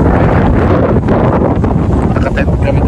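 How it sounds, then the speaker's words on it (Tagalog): Strong wind at Basiao Baywalk, Padre Burgos, Quezon, buffets the microphone with a loud, continuous low roar and gusty rumbling throughout. "Malakas ang hangin"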